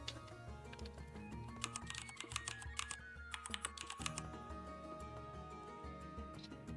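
Typing on a keyboard fitted with Cherry MX Black switches and ABS keycaps, a quick irregular run of clacking keystrokes heard over steady background music, with a denser burst in the middle.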